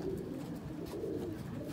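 Pigeons coo softly in a low, continuous murmur, faint and steady throughout.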